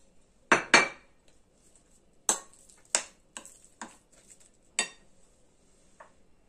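A spoon mixing raw minced-meat börek filling with spices in a bowl, producing a series of sharp, separate clinks and taps against the dish, close and otherwise quiet.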